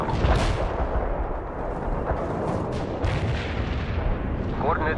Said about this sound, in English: Artillery strike, commander.